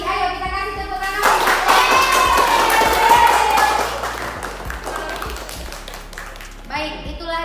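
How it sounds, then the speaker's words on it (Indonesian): A classroom of students gives a round of applause for a student discussion group, dense clapping running loud through most of the stretch and thinning near the end, with children's voices mixed in. "Ayo kita kasih tepuk tangan."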